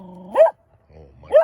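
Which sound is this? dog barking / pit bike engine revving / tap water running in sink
dog barking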